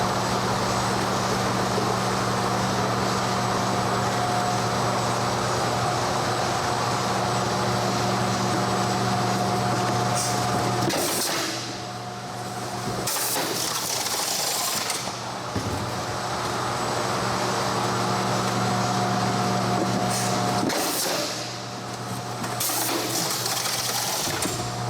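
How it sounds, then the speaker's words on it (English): A semi-automatic case sealer runs steadily with a continuous mechanical hum and whir, with brief dips in level around the middle and again later, and no voices. "This is here, the case sealer,"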